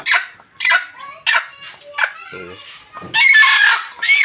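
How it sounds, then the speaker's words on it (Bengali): A domestic desi hen sitting on a clutch of eggs clucks in a series of short, close calls, joined by other nearby chicken vocalisations and a louder burst near the end. "এটাও দেশি মুরগি"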